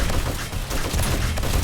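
Dense gunfire and cannon blasts in the zombie survival game 7 Days To Die, Alpha 18, a loud continuous barrage of overlapping shots and booms with no letup.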